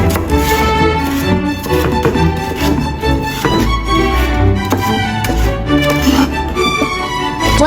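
Celery stalks are chopped into sections on a cutting board, a steady run of sharp knife strikes under background music, close and crisp throughout.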